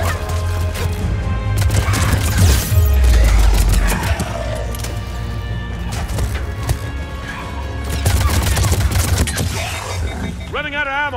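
Gunfire in Mass Effect 3, dense bursts of shots and impacts layered over a loud game soundtrack with heavy low rumble, continuous through the stretch.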